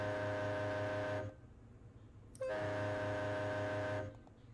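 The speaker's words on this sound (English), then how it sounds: "Here's the train horns I had." Loud train-style air horns blast twice, a long multi-tone chord lasting over a second, a brief pause, then a second sustained blast of similar length, with no talking.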